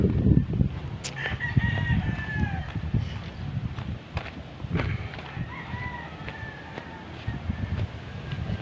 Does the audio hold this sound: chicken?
yes